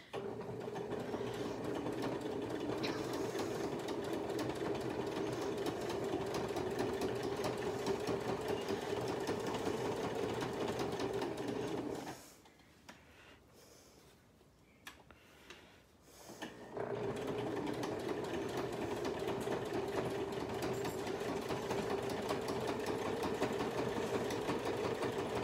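An old sewing machine stitches a fabric dog scarf with a steady, loud mechanical whirring. It pauses briefly midway, then resumes at the same even pace. No one speaks.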